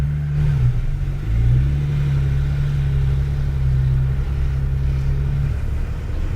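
A Porsche GT3 engine pulls forward slowly at the Hallett Racing Circuit, giving a steady, close, low drone with a slight shift in pitch early on. No one speaks.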